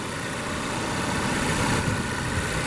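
A 2021 Volvo S60 T5 R-Design with a 2-liter turbo four-cylinder engine idling, a steady even hum with a smooth low rumble, close and unbroken, no voices.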